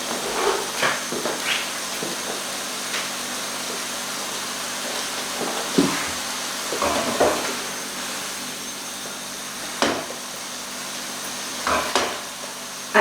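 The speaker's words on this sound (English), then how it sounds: "I always tend to use a non-stick pan when I'm making potato curry" Potato curry cooking in a non-stick pan, with a steady low sizzle and hiss running throughout and occasional sharper clinks and scrapes from stirring.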